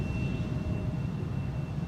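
An Air France Embraer 175 airliner at Edinburgh airport gives off a loud, continuous engine roar and rumble that holds steady throughout, with no speech.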